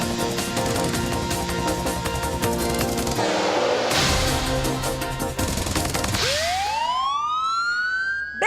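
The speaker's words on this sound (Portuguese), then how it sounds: "Solta essa sirene de novo" A loud police siren wails and sweeps up and down amid dense, crackling noise, the tone rising sharply near the end.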